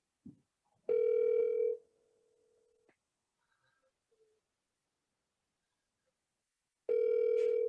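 A telephone ringing on an outgoing call: two long electronic ring tones several seconds apart, clear and close, with near silence and faint small noises between them.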